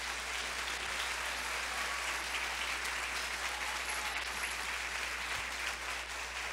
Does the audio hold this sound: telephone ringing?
no